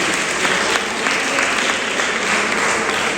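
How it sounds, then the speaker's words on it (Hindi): Loud, sustained clapping from a college audience during a spiritual lecture, a thick wash of hands that stays strong and even for a few seconds. "आप अपने लिए जोरदार ताली बजाइए"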